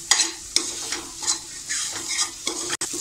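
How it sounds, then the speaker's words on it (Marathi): Chana dal being sautéed and stirred in a pan, steady sizzling broken by several sharp scraping stirs of a spoon, close and fairly loud, with no voices. "आपण डाळ 2 मिनटं अशी परतून घ्यायची आहे"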